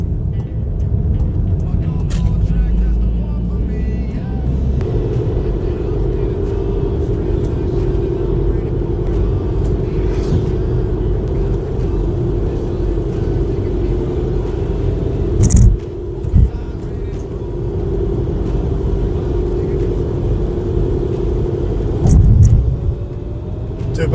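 A lifted Alltrack car drives along a small road in the rain, its steady low engine and tyre rumble filling the cabin, with a few brief knocks and bumps partway through.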